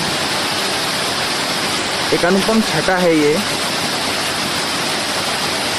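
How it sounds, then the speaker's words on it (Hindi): A waterfall beside a bridge in the Kamsyar valley pours a dense, continuous broadband roar that fills the whole stretch, with someone speaking briefly over it midway. "यहाँ एक बहुत प्यारा दृश्य है वाटरफॉल का"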